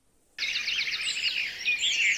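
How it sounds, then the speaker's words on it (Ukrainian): Birds chirp and trill continuously, several quick high twittering calls overlapping, fairly close and clear. "спів птахів."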